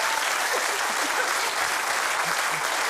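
A studio audience on a Dutch television show claps steadily, a broad wash of applause holding at even loudness throughout, with faint voices briefly audible beneath it.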